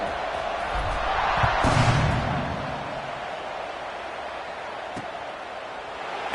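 Stadium crowd noise in a college football video game at kickoff for Kent State against Texas Tech: a broad, steady roar that swells briefly and then settles, with a sharp thud midway.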